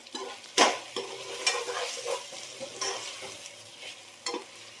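Cut tomato sizzles in a pan of pulao as it is stirred, with a hissing fry punctuated by several loud spatula strokes and scrapes against the pan, no one speaking.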